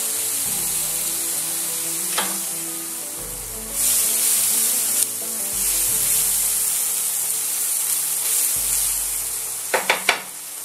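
Shallots frying in a knob of butter in a pan, a steady close sizzle with hissing swells as they are stirred and a few sharp clicks near the end, no talking.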